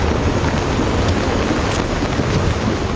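Heavy monsoon rain pours steadily in Samba district, Jammu and Kashmir, a dense continuous roar with low thunder rumbling beneath it throughout, no voices.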